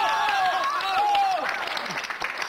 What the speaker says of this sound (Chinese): 再次鼓掌